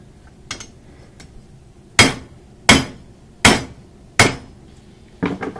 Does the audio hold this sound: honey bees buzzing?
no